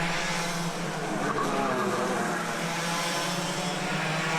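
Club100 lightweight sprint racing karts in an A final at Ellough Park track, a continuous loud buzzing engine roar of several karts close by, steady throughout with no break.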